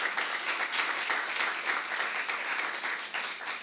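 A church congregation at a Saturday worship service claps during the sermon, a steady, moderately loud wash of many hands filling the room for a few seconds.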